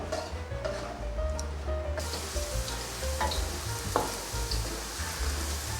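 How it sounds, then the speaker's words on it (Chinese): Sweet potato pieces deep-frying in hot oil in a wok at home, a steady close sizzle with occasional crackles and light stirring clatter. "接着开火来炸地瓜。"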